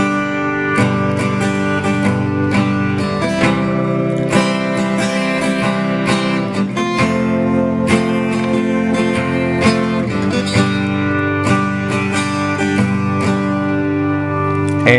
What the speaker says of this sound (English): Now there's a little strum in there that sounds like this.